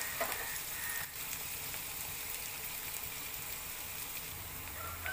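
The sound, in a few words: onions softening as they fry in a pan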